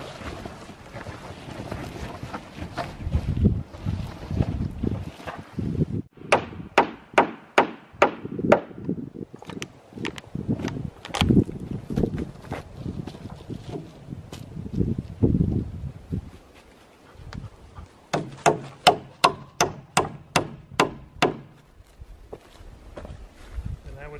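Nails are hammered into plywood during a cabin build: bursts of sharp, ringing hammer blows in quick rhythmic runs, loud and close, broken by shuffling, wind and people talking between the strikes.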